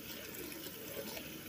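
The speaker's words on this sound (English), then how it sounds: "So what I do when I'm done cooking the spaghetti, I add some water." Water runs and splashes steadily into a pot of cooked spaghetti as it is added and drained. The sound is a faint, continuous rush with no other sound around it.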